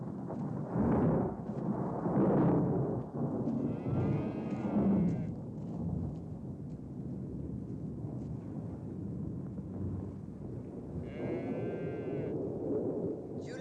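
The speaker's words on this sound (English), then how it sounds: "Kurt, the thunder's frightening the oxen" Low rolling thunder rumbles through a storm scene in a western set during the Irish potato famine, with oxen nearby; a long deep roar swells and fades under intermittent speech and rain-like hiss.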